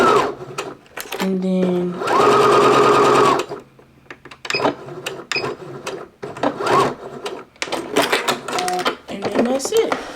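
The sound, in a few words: sewing machine forward and back stitching a scrunchie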